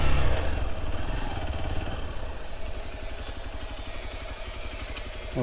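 A motorcycle climbs a steep uphill road in Goa in first gear, its engine a steady, close, throbbing labor with a dense low chug that holds even throughout and has no talk over it.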